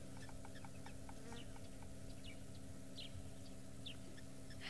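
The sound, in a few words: lapwings calling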